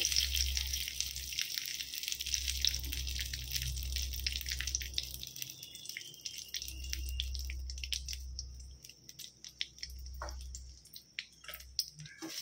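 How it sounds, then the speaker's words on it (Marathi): Curry leaves fry in a spoonful of oil in a wok until crisp, giving a faint, steady sizzle broken by scattered sharp crackles and pops. "याच्यामध्ये आपल्याला फक्त कढीपत्ता थोडंसं क्रिस्पी होईपर्यंत आपल्याला परतून घ्यायचं आहे।"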